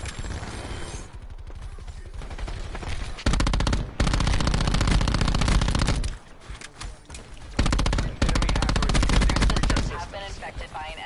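Sustained machine-gun fire in the Black Ops 4 video game, long close rapid-fire bursts broken by a few short gaps, with faint game voice announcements underneath.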